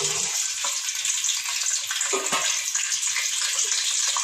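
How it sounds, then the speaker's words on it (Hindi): Onions added to hot ghee in a pot for white biryani give a loud, continuous hissing sizzle with a few soft bumps, close and without speech. "घी हमारा गर्म हो चुका है, इसमें मैं प्याज डाल रही हूँ।"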